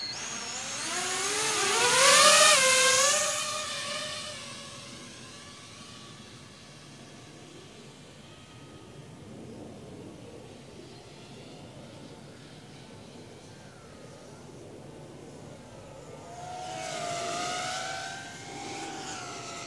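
A freestyle FPV drone arms and takes off: its motors surge into a loud, rising whine, settle into a steadier whir as it flies off, then swell again near the end.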